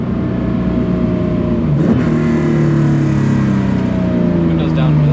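A naturally aspirated Nissan Skyline engine pulls hard under acceleration, its steady rising tone holding close and loud for five seconds after a brief gear-change dip.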